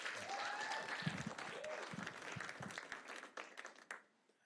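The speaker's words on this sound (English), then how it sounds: "First of all, give a round of applause for Chloe for putting together such a wonder" Applause from the audience at a Black History Month celebration evening, dense and sustained, fading out near the end with a few last claps.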